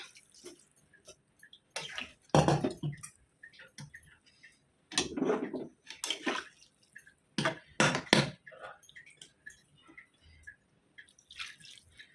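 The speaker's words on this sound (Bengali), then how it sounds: "কিছু জল দিয়ে দিলাম" Water poured into a cooking pan holding masoor dal, arriving in several separate splashing bursts with quiet gaps between them, fairly close and moderately loud.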